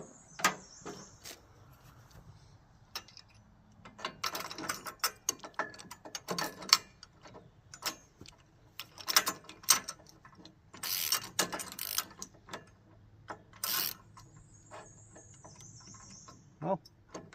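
A ratchet snugs up a bolt while a Woodland Mills HM130MAX sawmill is being assembled, giving quiet, close, irregular clicking bursts with metallic clinks and pauses in between, and no talking over it.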